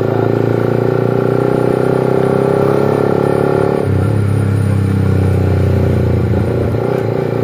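A Suzuki GSX R150 motorcycle roars on the road with a loud, sustained engine drone, dropping pitch about halfway through as the revs shift, with wind rush throughout.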